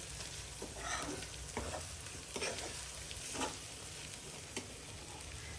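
Spices with red chili sauté in a pan for Maharashtrian khas khas bhaji, a faint, steady sizzle under intermittent spatula scrapes and stirs spread across several seconds, without speech.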